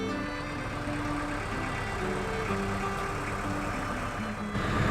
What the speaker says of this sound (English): Just started the engine, just prepping for us to get going.